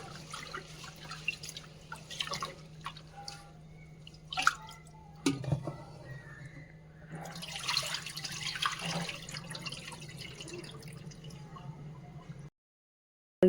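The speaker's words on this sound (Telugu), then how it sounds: "రైస్ని 3-4 times వాష్ చేసుకోవాలి మనం రైస్ని అయితే." Rice being rinsed in water by hand while preparing homemade veg biryani, giving soft, steady splashing, dripping and swishing that comes in a few louder bursts and then stops short near the end.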